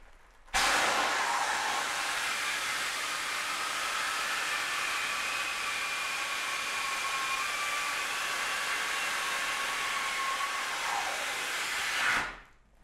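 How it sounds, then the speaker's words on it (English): An air hose blows steadily into a plastic bag, a loud, continuous broadband hiss lasting about twelve seconds before cutting off abruptly. "So now I'll inflate the bag with the air hose"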